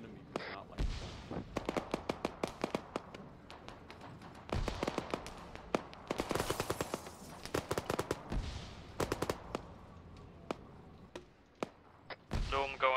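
Sharp, close gunshots from the military video game Arma 3 ring out in bursts and rapid strings, with some single reports and heavier blasts, while voices talk in between.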